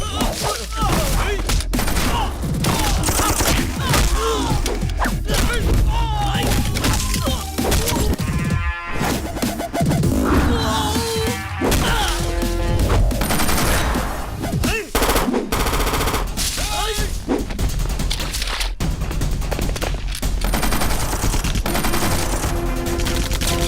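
Rapid bursts of gunfire from a shootout in a Hindi-dubbed South Indian action comedy film, loud and continuous with crashes and smashes mixed in, over background score and occasional voices.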